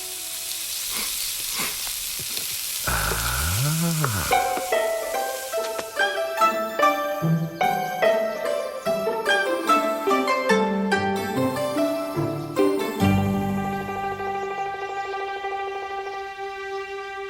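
Hundred-year tofu sizzling in a hot pan, a steady frying hiss under a stretch of music with melodic notes and a quick sweeping tone, no talking.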